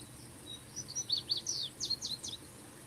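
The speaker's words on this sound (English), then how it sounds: "I'm just sitting here chilling for a minute, listening to the birds." Birds sing outdoors in a string of thin, high chirps and tweets, quiet and somewhat distant over a soft background hiss, with no one speaking.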